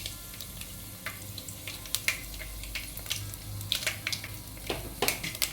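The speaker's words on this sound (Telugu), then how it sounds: "1 టీ స్పూను జీలకర్ర వేసుకొని ఇవి వేగనివ్వాలి." Cumin seeds and three dried red chillies frying in hot oil for a Telangana-style bottle gourd dal, giving a soft steady crackle with scattered sharp pops and a faint low hum underneath, no talking.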